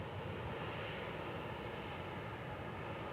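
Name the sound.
rare aircraft flying at Kansas City airport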